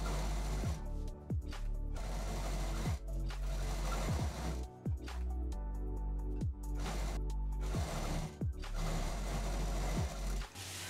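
Sewing machine stitching a quilted patchwork cloth piece, a loud, steady mechanical whirr and rapid needle clatter running almost continuously, briefly pausing and restarting a few times.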